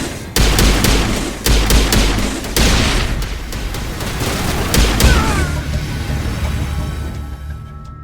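Mass Effect firefight gunfire: loud, close bursts of shots with sharp repeated cracks and booming impacts through the first half, then a lighter scatter of shots fading into a ringing tail.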